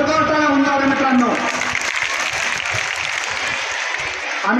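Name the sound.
audience applause at ceremony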